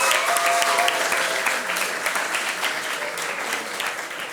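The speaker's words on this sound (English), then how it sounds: "Round of applause." A school quiz competition audience applauds the winning team, a loud, dense burst of clapping that carries on steadily throughout without speech.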